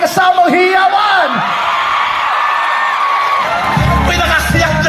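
A festive crowd at a mall fiesta show whoops, yells and cheers, loud and close, with shrill drawn-out shouts overlapping throughout and a low rumble joining near the end.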